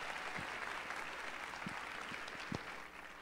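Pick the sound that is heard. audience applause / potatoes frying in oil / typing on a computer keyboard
audience applause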